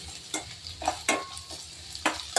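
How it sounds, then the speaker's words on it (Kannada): Onions fry in oil in a pan for three to four people, with a spoon stirring in irregular scraping strokes over a steady low sizzle, close and with no voices. "ಈರುಳ್ಳಿ ಫ್ರೈ ಮಾಡ್ಕೊತಾ ಇದ್ದೀನಿ"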